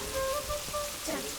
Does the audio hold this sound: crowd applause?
no